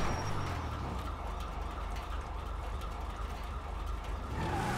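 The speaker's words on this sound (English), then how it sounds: "Oh, I hear sirens." Siren wailing in the GTA V video game, a steady distant emergency-vehicle tone heard over continuous engine and road rumble for the whole stretch.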